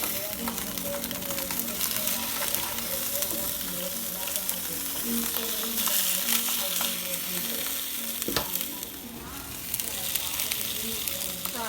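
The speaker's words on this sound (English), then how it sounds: "Fry the smoked sausage in with the fresh sausage just so they can get cooked a little bit" Smoked and fresh sausage fry together in a pot for authentic Louisiana gumbo, giving a steady, close crackling sizzle with occasional stirring scrapes and no speech.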